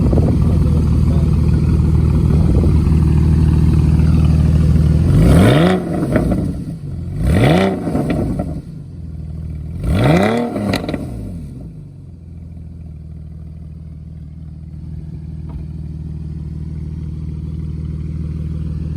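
A Porsche Boxster S engine drones steadily, broken by three loud revving surges a couple of seconds apart, each rising and falling, before easing back to a low hum.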